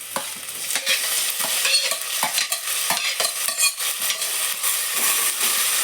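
Chopped tomatoes go into onions frying in a pan for a village-style egg curry, with steady sizzling and repeated clinks of a spoon stirring against the pan.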